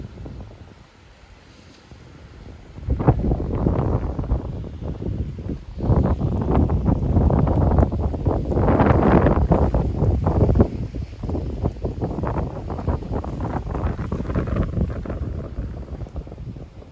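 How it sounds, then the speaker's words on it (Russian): Ocean waves rush and break continuously at Varadero beach, Cuba, while steady wind buffets the microphone, a loud, rolling roar with no voices. "Вот такие набегающие волны."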